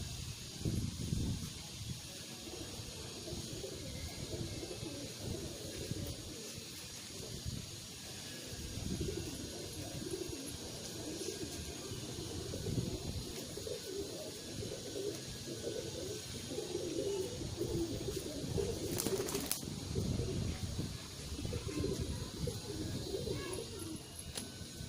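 Pigeons coo repeatedly in soft, low, rolling calls, several birds overlapping at close range, with faint background noise and an occasional rustle.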